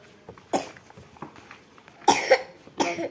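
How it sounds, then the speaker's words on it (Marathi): A child coughs several times in short, separate bursts, the last two louder and harsher, with quiet pauses between. "खोकला झालाय ना औषध प्यायचं ना तुला"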